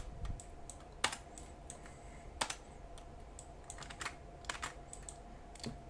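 Computer keyboard keys pressed sporadically at a desk while editing a logo in Inkscape, a few sharp isolated clicks and light taps spread over a quiet room hum, close and soft, no talking.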